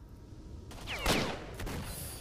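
Gunfire in the video game STALKER: Shadow of Chernobyl: a few sharp, loud shots ring out, the strongest near the middle, followed by another burst and fading echo over a steady background rumble.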